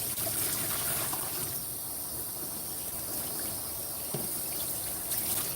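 Steady water spraying and trickling over a dog being rinsed during grooming, a continuous close hiss of running water with small splashes throughout and no talk.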